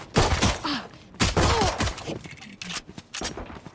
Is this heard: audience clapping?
no